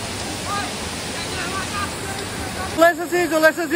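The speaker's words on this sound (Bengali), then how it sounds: "যেখানে রয়েছে এই তুরগা ওয়াটারফল, যেটা কিনা পাহাড়ের ওপর থেকে খুব সুন্দর একটা ঝর্ণা জল নেমে আসছে" Water of the Turga waterfall on a hilltop in Purulia pours down in a constant broad rushing roar, with a voice starting to speak over it near the end.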